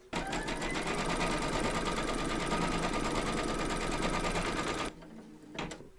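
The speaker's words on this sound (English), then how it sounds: "Pop your hoop into your machine and stitch round number 2 to secure it." An embroidery sewing machine stitches an appliqué outline on a hooped Busy Bee hive design, a loud steady rapid needle hum lasting about five seconds, then stopping abruptly, followed by a brief faint clatter.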